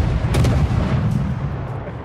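Warship guns firing armor-piercing shells in a naval battle game, a deep rumbling salvo with a sharp crack near the start and a sustained low boom that rolls on to the end.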